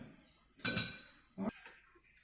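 Two clear metallic clinks of a spoon and fork against a bowl of beef pochero, spaced apart, close and fairly quiet in a calm room.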